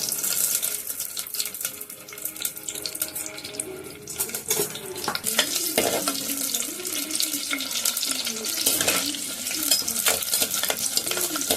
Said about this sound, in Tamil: நசுக்கிட்டு இப்போ பூண்டு போட்டுக்கோங்க